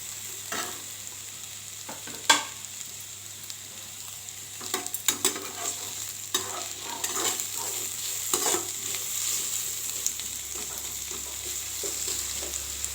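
Onions fry in a pan for Andhra-style rasam, giving a steady close sizzle broken by repeated spoon scrapes and knocks as they are stirred.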